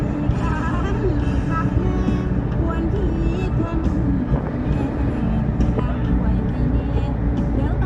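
Cars speed along a road in Pakxong, Champasak, producing a steady, loud rumble of passing traffic heard close by, with people talking over it throughout.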